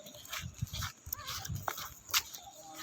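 A dog whimpers and yips in short, thin bursts, fairly close, with scattered faint voices and small bumps around it.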